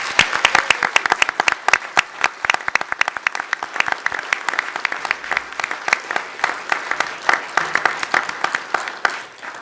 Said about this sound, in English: Let's give her a short round of applause for these 17 regions.